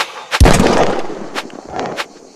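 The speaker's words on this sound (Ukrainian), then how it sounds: "Стріляти в оленів." A single sharp gunshot, fired at deer in a horror video game, booms and rings out, followed by a couple of fainter clicks and thuds in the quiet afterward.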